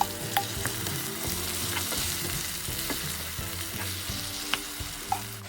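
Chicken with browned onions and garlic fries in a pan, giving a steady close sizzle with occasional crackles and stirring scrapes and no voices.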